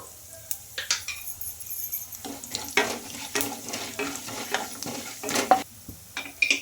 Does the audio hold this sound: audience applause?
no